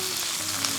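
Sliced organic sweet onion stir-fries in plenty of oil, giving off a close, constant crackling sizzle that fills the short moment.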